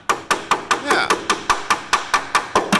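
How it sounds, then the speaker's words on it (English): A ball peen hammer taps the inner firewall of a 1965 Thunderbird convertible under restoration in a steady series of about twelve sharp, evenly spaced metallic strikes, close and loud, with a brief spoken word partway through. "The ball peen hammer looked after a lot of that."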